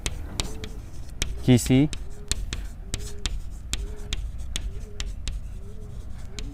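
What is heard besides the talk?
writing on a board or paper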